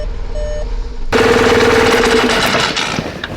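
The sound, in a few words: project car engine starting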